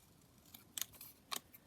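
Scissors cut out paper faux postage stamp images with a few quiet, crisp snips spaced irregularly, close and alone.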